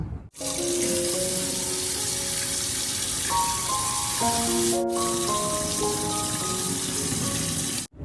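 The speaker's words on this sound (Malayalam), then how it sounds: "ഇനി നമുക്കിതിൻ്റെ വെള്ളം ഊറ്റിക്കളയാം" Water pours and splashes steadily from a pot of boiled cassava for several seconds, with a hollow gurgle and shifting ringing tones as it drains.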